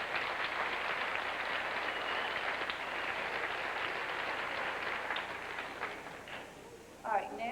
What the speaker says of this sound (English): please give these students a round of applause